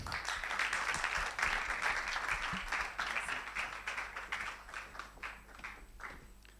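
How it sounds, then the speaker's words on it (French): A conference audience applauding warmly to welcome a speaker, a full, dense burst of clapping that holds steady before gradually thinning toward the end, with a low hum beneath. "je vous demande d'applaudir très chaleureusement la star des blogueurs camerounais"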